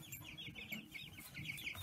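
Meat chicks cheep and cluck continuously inside an old galvanized metal water trough in a hay shed, a busy cluster of high chirps heard close and moderately quiet.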